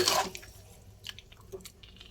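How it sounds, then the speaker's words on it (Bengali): A small splash of water from a spice-rinsing bowl poured into chicken curry simmering with whisked yogurt, one close burst followed by a few faint drips and light sizzle. "খুব সামান্য জল আমি এই মশলা ধোয়া বাটি থেকে দিলাম।"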